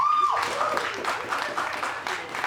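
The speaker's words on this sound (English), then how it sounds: "Please give him a round of applause." A small indoor nerd-night audience claps for a comics innovator award, a brief dense patter of applause close by, with a voice briefly heard over it at the start.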